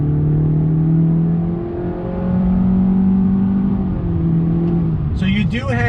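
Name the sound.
2020 Honda Accord Sport 1.5 liter turbo engine accelerating, CVT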